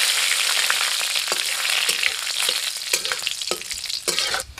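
Panch phoron spice mix frying in hot oil in a pan for an Assamese dish, a loud continuous sizzle with crackles and pops and occasional stirring scrapes, no talking.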